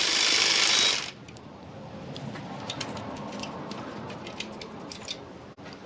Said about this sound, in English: I'm just doing a very slow torque on it to undo it.